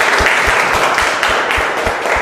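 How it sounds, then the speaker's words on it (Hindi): Audience of children clapping at a school event, loud and close, with a rhythmic, fairly regular beat of claps running through the short stretch. "ताली बजाइए"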